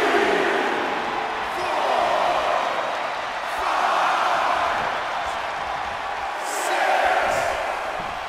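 WWE 2K24 video game crowd at an NXT event cheering and roaring in swelling waves beneath a commentator's continuous talk, moderately loud and broad.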